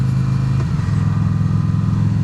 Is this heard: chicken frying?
no